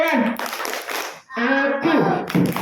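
Orphaned children at a charity gathering chant together in rhythmic bursts, punctuated by clapping, with short pauses between the phrases.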